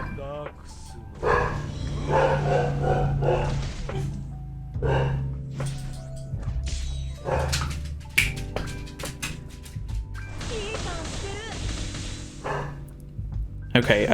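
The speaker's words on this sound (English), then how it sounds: "dogs are gonna start barking" Dogs bark in bursts in the background while someone talks through a Seven Deadly Sins: Grand Cross PvP match with game music and sound effects.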